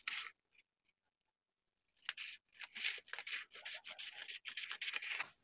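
Scissors snip through paper while cutting a rectangle for a handmade New Year paper lantern: a few soft crisp cuts, a pause, then a run of quick close rustling snips and paper handling, no talking.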